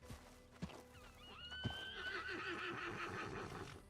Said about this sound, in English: Calm down, horse.